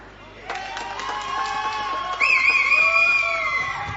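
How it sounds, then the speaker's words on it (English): A crowd at a women's junior curling semi-final breaks into applause and cheering for a long run-back takeout, the clapping building and then swelling louder midway, with whoops over a steady background. "the big applause here goes to Denmark and their skip Tune"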